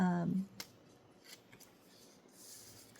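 Scissors snip through white card stock while trimming paper pieces for a handmade card, a few short crisp cuts near the microphone after a brief tonal sound at the start, otherwise fairly quiet.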